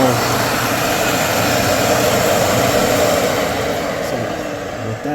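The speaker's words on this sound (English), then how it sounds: "This motor is spinning like a son of a bitch." A Dyson vacuum motor spinning at speed, a loud, steady, airy whine and rush that holds evenly across the whole stretch and eases slightly at the very end.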